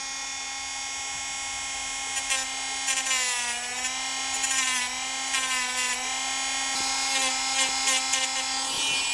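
A small rotary tool whines at high speed, its pitch wavering as it grinds a flat spot into a handmade fishing lure, steady and close for several seconds.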